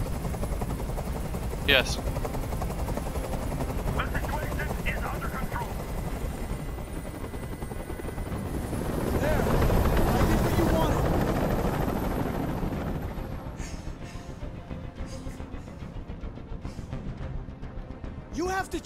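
A hovering helicopter in the video game Detroit: Become Human rumbles steadily through the whole scene, swelling louder around the middle, with gunfire-like bursts and people talking over it.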